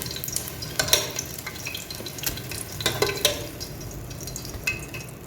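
Egg sizzling and crackling in a pan close by, with scattered spatters and pops and a scrape of stirring now and then.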